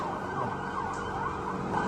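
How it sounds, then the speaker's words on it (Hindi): War sirens sound across Tel Aviv during an Iranian missile attack, a continuous rising and falling wail over steady low city noise, with no voices. "तेल अवीव में जंगी सायरन बज रहे हैं"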